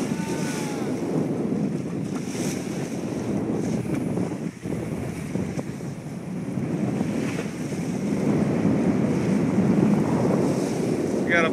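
A sailboat under full sail off an island, with steady wind gusting across the microphone and waves washing against the hull, loud and continuous throughout with no clear talk.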